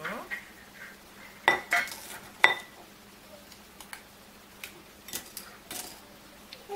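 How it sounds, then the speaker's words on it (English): A lid being fitted onto a pint-sized glass jar of homemade sugar scrub: several sharp, close clinks and scraping clicks of glass against lid, coming in irregular bursts with quiet gaps between. "I'll put the lid on."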